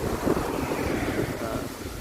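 Strong, gusty wind blows across an open roadside spot near water where lotus flowers are sold, a steady close roar buffeting the microphone throughout.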